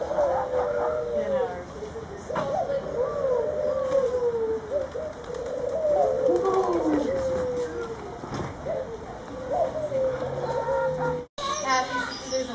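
Small birds nesting in a feeder coo and warble in repeated soft throaty phrases close by, while people chat over them.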